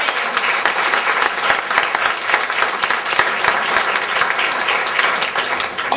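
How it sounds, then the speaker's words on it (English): Sustained applause from a large audience, steady and full throughout with no pauses. "just a round of applause for our wonderful panel and moderator"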